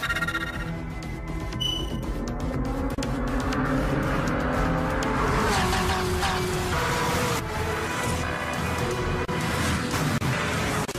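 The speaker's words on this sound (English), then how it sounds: "That manual transmission can get a heck of a workout. when it's let loose on a racetrack." A Corvette ZR1 C6 with a manual transmission driven hard on a racetrack, its engine roaring steadily and loudly throughout with shifting pitch as it accelerates and passes.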